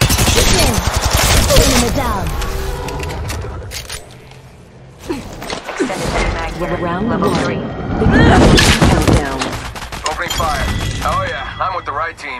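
Rapid gunfire in a shooter video game, loud crackling bursts of shots throughout, briefly dipping in the middle, with game voice callouts and players talking over it.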